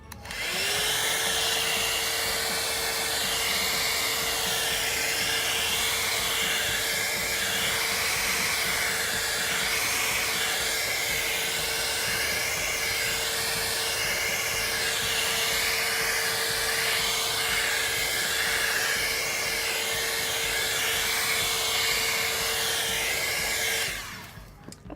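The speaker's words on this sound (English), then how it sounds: "I have my blow dryer." A blow dryer runs steadily and loudly for nearly the whole stretch, heating an acrylic pour painting, with a constant whooshing hiss and a faint motor whine before it cuts off at the end.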